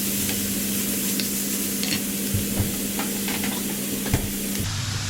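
Food sizzles steadily in a pan while a utensil scrapes and stirs it in occasional clicks and knocks, close by, with no talking.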